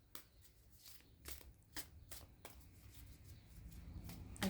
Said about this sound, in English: I'm going to get another card from here.